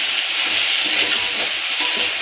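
Potato, eggplant, cauliflower stalk and Malabar spinach stalks sauté in a hot pan, giving a steady, close, dense sizzling hiss with no talk.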